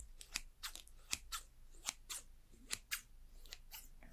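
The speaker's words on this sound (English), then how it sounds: "You will need a pair of good scissors" Crisp scissor snips repeat in an irregular rhythm, a dozen or so sharp cuts close up in a quiet room.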